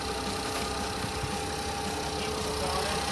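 A Ford 1.0 EcoBoost engine idles after a timing belt replacement, first start in nine months, a steady close-up mechanical drone with a faint uneven roughness, no voices.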